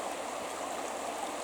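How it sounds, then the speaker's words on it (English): Water from a river or gill flows steadily past, a constant close rushing and gurgling wash with no breaks and no voices. "listen to the water, the flowing water"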